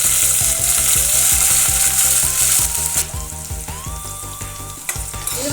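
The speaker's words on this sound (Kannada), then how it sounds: "ಈರುಳ್ಳಿ ಮೀಡಿಯಮ್ ಉರಿ ಇಟ್ಕೊಂಡು 2 ನಿಮಿಷ ಫ್ರೈ ಮಾಡ್ಕೊಂಡಿದ್ದೀನಿ." Onions for paneer biryani fry steadily over medium heat in a pot, giving a loud continuous sizzle with a dense crackle that eases slightly partway through, close up and with no voices.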